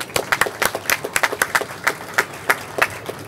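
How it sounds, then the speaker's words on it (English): A round of applause at a ribbon-cutting ceremony for a Times Square plaza, made of sparse, distinct claps from a small crowd in an irregular patter, fairly close. "let's have a round of applause for absurd ideas that actually end up being great visions"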